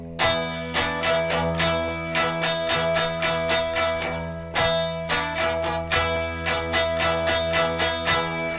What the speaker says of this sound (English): I'll play you verse two kind of slow so you get a grip on verse two.